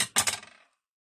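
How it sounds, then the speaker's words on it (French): Paper being cut with scissors for a scrapbook mini album: a couple of quick close snips with a short papery rustle, alone and brief. "Je vais couper."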